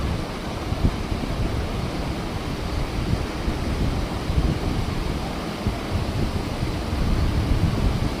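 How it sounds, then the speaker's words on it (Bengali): The roar of Lodh waterfall in Jharkhand, a 143-metre drop with heavy flow even off season, comes as a continuous, broadband rush of falling water, steady and moderately loud with no talk. "এই জলের আওয়াজ অনেক দূর থেকে শোনা যায়"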